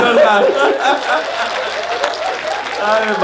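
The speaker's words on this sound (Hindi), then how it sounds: "हाथ उठा के तालियां बजा।" Applause from the audience at a Hindi comic poetry recital, a dense stretch of continuous clapping mixed with crowd chatter and some chuckles, steady and fairly loud throughout.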